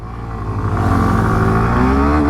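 A 125cc motorcycle, Bajaj Pulsar 125 or Hero Glamour X 125, pulls away hard after starting, its engine note climbing steadily and loud close by with no talk over it.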